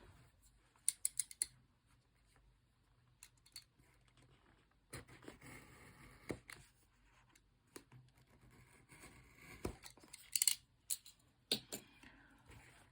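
Honor 90 Lite phone box in titanium silver being opened, with scattered crisp scraping, tearing and tapping of packaging, a few sharp bursts near the start and end, fairly faint and close, with no talking.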